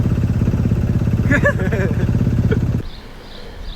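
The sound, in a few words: sailboat engine running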